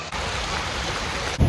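Heavy rain pouring steadily outdoors in Delhi, a dense, continuous hiss of water close by with no voices, growing slightly louder and rougher at the very end.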